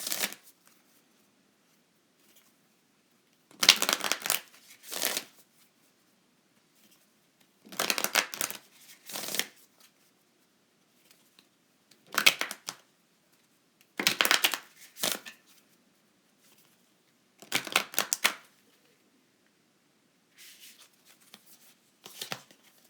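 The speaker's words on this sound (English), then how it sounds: "I'd like to pull a card from my moon deck before we move on to our couples reading" Tarot cards from a moon deck being shuffled and pulled: seven separate bursts of crisp riffling and slapping, each a second or so long, with quiet pauses between and softer card handling toward the end, no talking.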